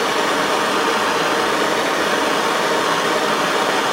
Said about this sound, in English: got the torch turned on here, and here's a piece of metal here. What I'm going to do is just going to heat this up